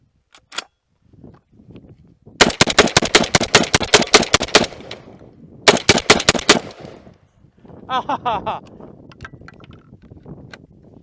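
A Black Aces Tactical Core 12 shotgun fires from a 20-round drum in two loud rapid bursts of closely spaced booming shots, followed by a brief pause and a few more scattered shots with faint voices afterward.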